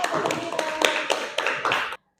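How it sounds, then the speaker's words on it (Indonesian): Students in an Indonesian-language classroom clap together, a dense run of near hand claps with a few sharper peaks, lasting about two seconds before stopping abruptly into silence. "Oke, beri tepuk tangan"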